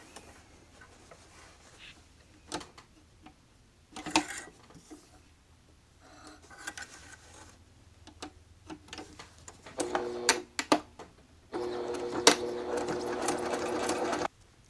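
A home sewing machine stitches a fabric bookmark with a presser foot, giving short quiet bursts of running stitches between pauses and handling noises, ending in a louder sustained run.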